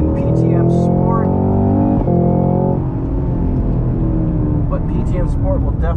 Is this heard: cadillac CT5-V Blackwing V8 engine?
yes